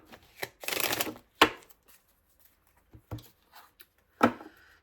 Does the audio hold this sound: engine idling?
no